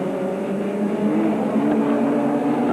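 F1 stock cars racing around a short oval at Aycliffe Stadium in 1987, engines droning steadily with shifting pitch as cars sweep down the straight and round a turn, loud and continuous with no talk.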